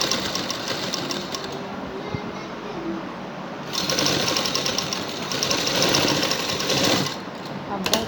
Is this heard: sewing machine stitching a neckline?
yes